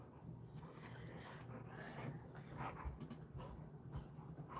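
A dog whimpers and mouths playfully at someone's ankle indoors, soft whines and snuffling yips over a low rustling background, close and fairly faint.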